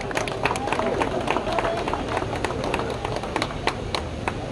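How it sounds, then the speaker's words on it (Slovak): A crowd at a retro car show claps for a 1966 Citroën ID19, producing a dense patter of hand claps with a voice speaking over it. "Zaslúži si to veľký potlesk teraz"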